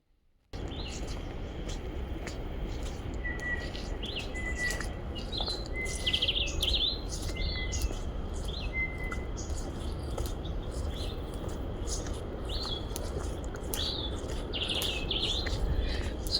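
Several birds chirp and call repeatedly in a forest, short high tweets scattered over a steady low rumble of outdoor ambience.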